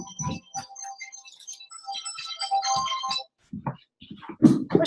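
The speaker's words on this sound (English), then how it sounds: "I'm getting a phone call right now." Phone ringtone of an incoming call, a bright electronic melody of chiming tones playing alone for a few seconds, followed by short noisy bumps.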